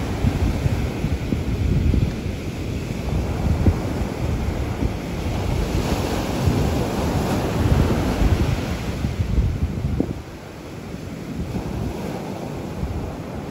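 Ocean waves wash steadily onto a seashore, a loud, continuous roar of surf mixed with wind rumble on the microphone, easing slightly toward the end, with no voices.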